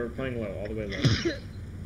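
A sneeze bursts out during a tense multiplayer match of a 7-man platoon game, brief and fairly close, landing over steady voice chat as players keep talking about strategy.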